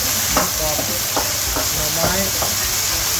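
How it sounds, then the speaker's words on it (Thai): Noodles are stir-fried in a sizzling pan with a steady hiss, broken by a few sharp scrapes and knocks of a utensil against the metal, and faint voices in the background. "อันนี้ผัดเส้นเลย"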